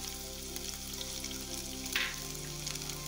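Ginger frying in hot oil in a pan, a soft steady sizzle with a brief brighter crackle midway, fairly quiet throughout.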